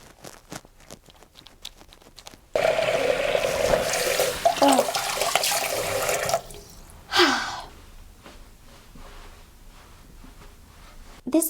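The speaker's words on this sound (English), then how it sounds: "A little water, get some lather going." Tap water runs steadily into a bathroom sink for a few seconds while face cleanser is lathered, close and fairly loud, then cuts off, leaving quieter splashes and rubbing.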